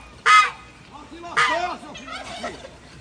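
Geese honk in short loud bursts, two or three calls close by, mixed with a person laughing and chattering in between.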